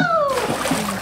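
A child jumps off a high board into a pool, making a loud, broad splash of churning water that lasts about a second, with a brief voice just before impact.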